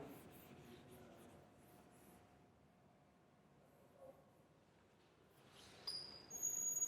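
During a Class 12 electrochemistry lecture, a board eraser wipes away writing with faint, soft rubbing strokes. The sound is quiet and low overall, and a slightly louder scrape comes near the end.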